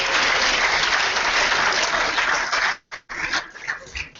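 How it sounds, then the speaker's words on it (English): Audience at a film festival screening applauds loudly in a dense, sustained burst that cuts off abruptly near the end, followed by scattered brief claps and rustle. "Can we have a huge round of applause once again?"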